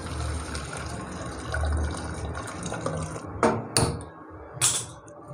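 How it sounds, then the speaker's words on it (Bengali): Mutton liver soup with potatoes poured from a pot into a pressure cooker in a home kitchen: a soft continuous liquid pour with faint clatter, followed by a few sharp splashes and clinks near the end. "এবার প্রেসার কুকারে ঢেলে নেব।"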